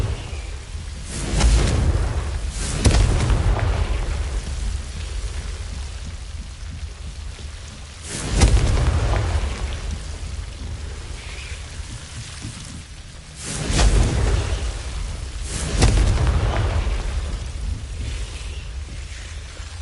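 Confringo blasting spells explode repeatedly in Hogwarts Legacy on PS5, with five booming, rumbling blasts spaced a few seconds apart, each followed by a crackling, rain-like spray of debris.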